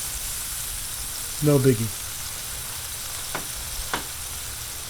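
Steady crackling sizzle of smash burgers frying on a Blackstone griddle, with a person briefly speaking over it.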